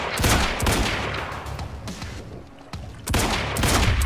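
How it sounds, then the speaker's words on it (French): Gunfire in the video game Quantum Break, dense, loud bursts of automatic fire and booming shots rattling almost without pause. "Ça tire de partout."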